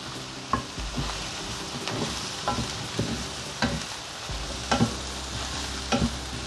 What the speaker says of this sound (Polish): Do cebuli z czosnkiem wrzucam pieczarki. Razem dokładnie mieszamy.